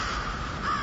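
A crow caw from a Halloween animatronic sound effect, one short, harsh, raspy call repeated quickly, heard alone and fairly faint.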